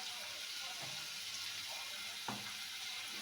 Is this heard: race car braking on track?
no